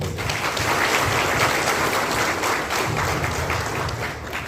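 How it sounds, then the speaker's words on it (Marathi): A crowd applauding at a rickshaw-taxi union gathering in Satara, dense sustained clapping from many hands that fills the whole stretch at steady loudness. "त्याबद्दल टाळ्या झाल्या पाहिजे"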